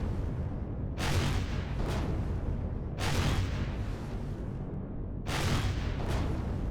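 Missiles slam into a patrol vessel in Empyrion Galactic Survival, three heavy booming explosions about two seconds apart over a constant low rumble, loud and close, with no talking.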